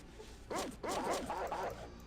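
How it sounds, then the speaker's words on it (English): A dog barks in the game Fallout 2, a few quick, close barks in a short burst over faint game background. "Let's see if we can get in here without the dog going haywire."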